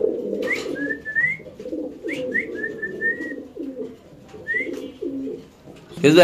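Fancy pigeons for sale coo repeatedly in low rumbling phrases, close and moderately loud, while faint whistle-like calls and soft background voices sit over them.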